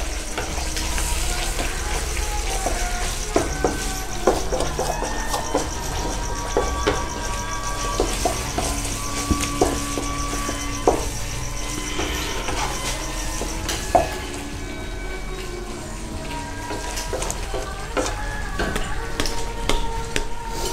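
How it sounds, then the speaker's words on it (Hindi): Chicken malai with cream fries in a pan, a steady close sizzle with scattered clinks and scraping as it is stirred, continuous and moderately loud throughout. "अब हम इसको थोड़ी देर के लिए फ्राई करेंगे ताकि हमारी क्रीम चिकन के अंदर अच्छे से मिक्स हो जाए।"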